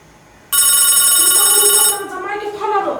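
A loud electronic mobile phone ring bursts in and holds steady for about a second and a half, then fades into a short melodic ringtone tail.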